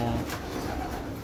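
Pigeons in a loft give a short, close, low cooing burst, soft and throaty, with no speech over it.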